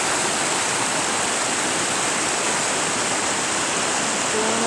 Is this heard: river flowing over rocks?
yes